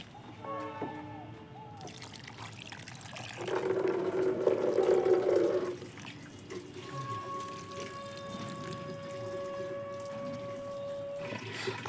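A mug of water mixed with rice starch water is poured onto eggplant plants: a short, moderately loud splashing pour stands out against quiet outdoor ambience with faint tonal background sounds.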